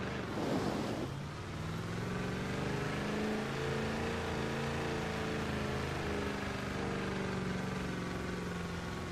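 1973 Land Rover Range Rover engine revving while climbing a hill in Forza Horizon 4, a steady droning roar with shifting tones and wind-like noise, sustained and fairly loud throughout.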